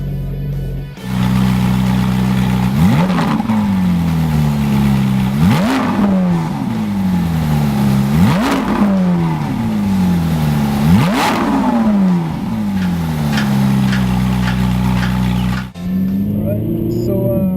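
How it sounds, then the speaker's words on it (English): A Ferrari 458 Italia engine revs hard, about five loud rising and falling blips in quick succession, close and dominating. "it is the 458 Italia after all. It'd be a waste not to rev it."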